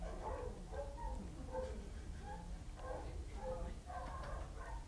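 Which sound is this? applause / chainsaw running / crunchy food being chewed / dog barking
dog barking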